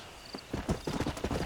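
Horse hooves clip-clop in the Red Dead Redemption video game, a quick run of close, even beats that picks up after a short pause and holds a steady trotting rhythm.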